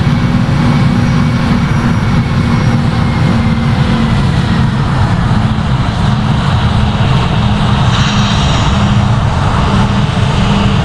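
Airbus A320 engines roar at takeoff power in the Project Flight video game, a loud, continuous jet drone with a steady low rumble that holds without letup.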